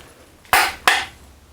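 Two sharp metallic clicks about a third of a second apart from a torque wrench reaching 150 foot-pounds on a Bravo 3 bearing carrier, close and crisp, each with a quick decay over a quiet background.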